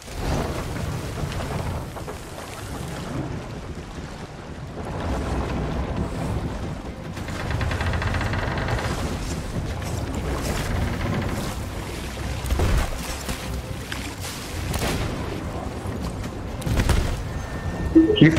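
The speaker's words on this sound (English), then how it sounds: "I can hear our boat." A sailing ship at sea in the video game Sea of Thieves, with a steady wash of rain and rolling, thunder-like rumbles running through the whole stretch, and faint voices now and then underneath.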